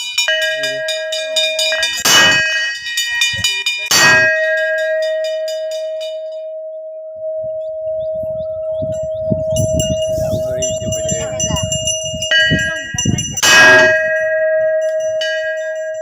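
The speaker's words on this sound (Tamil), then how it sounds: "ஆளுக்கு ஒரு மணி அடி." Temple bells are struck at a family deity shrine in Ramanathapuram: loud metallic strikes with long, ringing overtones that hang between hits, and low rustling and bustle underneath in the middle stretch.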